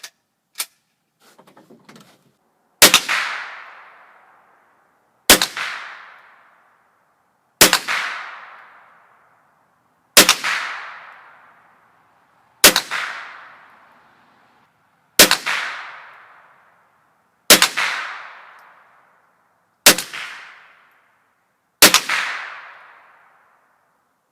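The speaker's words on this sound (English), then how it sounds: "establish a baseline using federal target ammunition with a 10-shot group at 25 yards" A Remington 552 Speedmaster .22 rimfire semi-automatic rifle fires Federal target rounds at 25 yards, nine sharp loud cracks evenly spaced about two and a half seconds apart, each with a short decaying tail, after a few small clicks.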